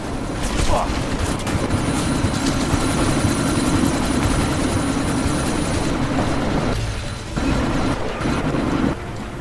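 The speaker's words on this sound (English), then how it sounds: "you need to disable that chopper" Helicopter in the video game Deus Ex: Mankind Divided, a steady loud rotor drone with whining turbine tones, continuous throughout and briefly dipping near the end, with game effects layered over it.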